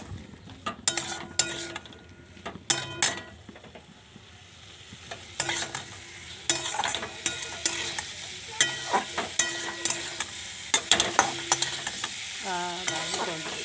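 Already-fried potatoes are tossed and sautéed in a pan, with irregular bursts of metal spatula scraping and clanks over a low background sizzle, close and uneven in rhythm, no talking.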